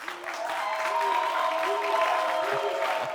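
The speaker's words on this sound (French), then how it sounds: "on va faire beaucoup d'applaudissements pour ce monsieur." A TV show studio audience applauds as a guest arrives, steady clapping mixed with some cheering, with tonal background sounds running beneath.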